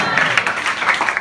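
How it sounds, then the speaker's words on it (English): Audience applause at an appreciation gathering for volunteers, a brief, steady wash of clapping from a crowd that fills the short moment without a break. "Damodar Swami, let's give him a big round of applause."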